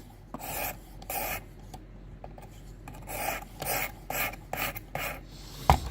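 A knife blade is drawn across a Worksharp Precision Adjust sharpening stone in rhythmic, close rasping strokes, about ten passes with brief gaps, ending in a louder scrape.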